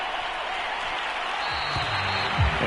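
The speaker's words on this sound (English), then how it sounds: "That's why you hear that clapping on the sidelines, right?" Sideline clapping at a football game makes a faint, steady patter of applause throughout, with a voice coming in low underneath near the end.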